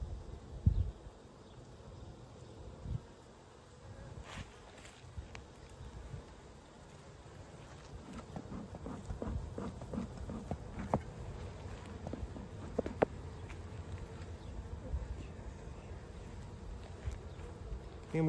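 Honey bees buzzing around an opened beehive while it is being inspected for a queen that has stopped laying: a steady, low, faint swarm drone throughout, with rustling and handling noises close by and no talk.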